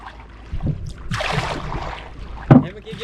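Traditional oruwa outrigger boat rowed on the lagoon at Madol Duwa, Koggala, with soft paddle splashes and water swirls, one sharper close splash near the end.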